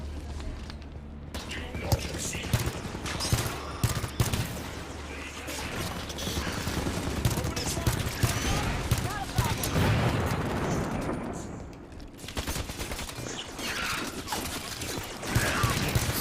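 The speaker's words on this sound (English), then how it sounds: "This gun seems like a light machine gun of some kind." Light machine gun fire from Halo 5: Guardians, loud crackling bursts and mechanical clatter running densely throughout over a steady game soundscape, with a voice talking at points.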